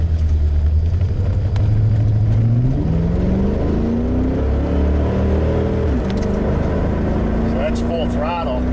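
A Chevy Corvette V8 with a hot no-start problem, running lean, revs up at full throttle, its engine note climbing and holding in a loud rising drone, with someone talking over it.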